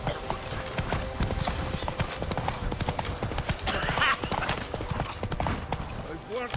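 Horse hooves clip-clopping at a gallop in The Witcher 3, a steady rapid beat of hoofbeats under game dialogue and voices, with a brief whinny.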